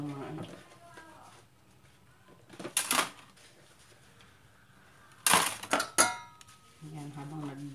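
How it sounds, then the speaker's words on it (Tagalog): Dishes washed at a home sink, with intermittent clinks and clatters of plates and cutlery under continuous conversational talk. "habang nag-hugas ako ng pinggan"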